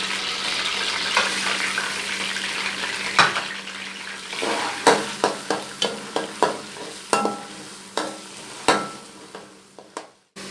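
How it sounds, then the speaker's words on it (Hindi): Onions frying in oil in a karahi pan for chicken karahi, a steady sizzle under a run of sharp spoon scrapes and clanks against the pan, close and loud. "सबसे पहले हम प्याज ऐड करेंगे।"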